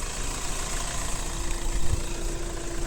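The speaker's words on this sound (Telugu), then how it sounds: "ఇంజన్ సౌండ్ మాత్రం ఓకే," A second-hand 2017 Hyundai Creta E+ diesel engine idles with a steady, low, rumbling hum and faint vibration, heard close up and even throughout, with no talking.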